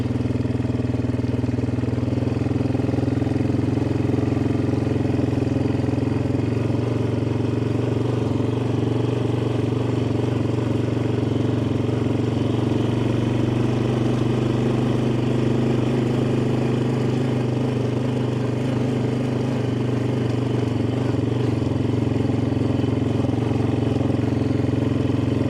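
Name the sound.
old four-wheeler ATV engine running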